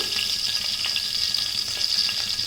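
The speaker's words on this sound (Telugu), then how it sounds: "ఆయిల్ వేడవగానే ఇప్పుడు ఆవాలేద్దాం" Mustard seeds sizzle and crackle steadily in hot oil for an egg bhurji base, a dense, close, even frying hiss with tiny pops throughout and no talking.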